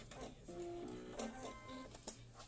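A sewing machine stitches a patchwork labyrinth quilt block, a near, faint mechanical whir with a humming, buzzy run and a few clicks, and no talk.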